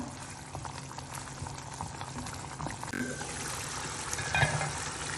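Chicken Chettinad gravy simmering in a pot, a steady close bubbling and gurgling with a brief clunk midway, no talk.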